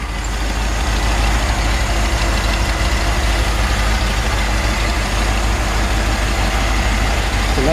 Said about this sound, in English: It's a nice, smooth running engine.